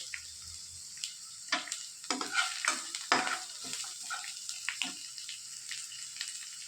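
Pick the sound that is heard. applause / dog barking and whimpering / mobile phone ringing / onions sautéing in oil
onions sautéing in oil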